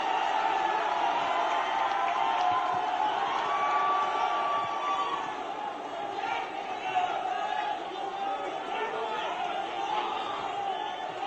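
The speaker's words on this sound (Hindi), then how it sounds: "मध्य प्रदेश के पूर्व मुख्यमंत्री माननीय कमलनाथ जी का जोरदार तालियों के साथ उनका स्वागत हम करें।" A large crowd at a political rally in Kalapipal, Madhya Pradesh cheers and applauds in a steady, sustained roar, heard from a distance.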